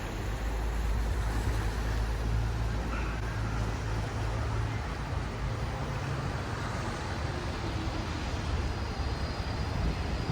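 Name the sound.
Rhine river flowing fast in Basel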